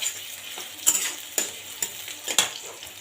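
Onions sizzle steadily in a pan while a utensil stirs and scrapes at a quick, uneven rhythm, close and moderately loud with no voices.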